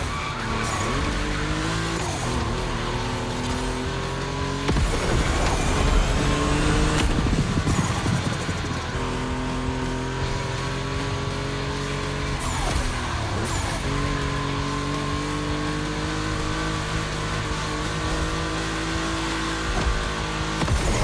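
Volkswagen race cars run on a track in The Crew Motorfest, with engines roaring continuously, loud and close, while revs rise and fall and tires squeal and skid through turns.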